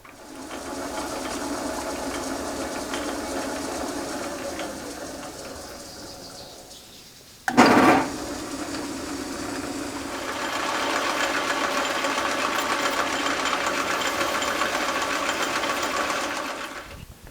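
A part for a Wimshurst electrostatic machine is threaded with a steady, whirring machine drone that fades, breaks off with a sharp clunk, then resumes and holds loud to the end.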